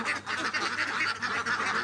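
A flock of three-month-old Khaki Campbell ducks quacks in quick, overlapping nasal bursts, fairly faint and a little distant, with several calls running together in a short stretch.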